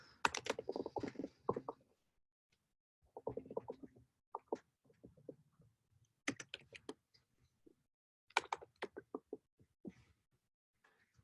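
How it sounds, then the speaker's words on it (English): Computer keyboard typing in quick bursts of close, crisp key clicks, separated by short pauses, with no talking. "Where was I even typing there?"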